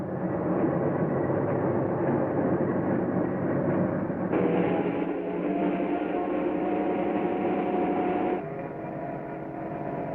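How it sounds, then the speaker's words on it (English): A Santa Fe freight train lumbers into motion, a dense, steady rumble of rolling cars and engine with metallic clanks shifting midway, fairly loud and without talk. "Slowly, he starts the long line of cars rolling."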